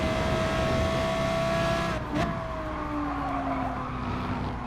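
Race car engine revving at the start of a race at Suzuka in a racing game, a sustained high engine whine that shifts pitch with gear changes and a brief burst of tire noise, loud and close.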